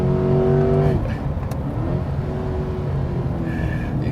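A new Chevrolet Corvette Stingray sports car engine revs loudly up close, then its tone drops away into a steady, deep, throaty drone.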